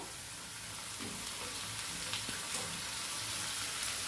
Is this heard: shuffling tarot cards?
no